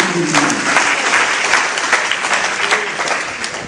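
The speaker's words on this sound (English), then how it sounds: "Please, another round of applause." Loud, steady applause from the audience at The People's Assembly in Kano, a political gathering for a presidential candidate, with clapping sustained evenly throughout.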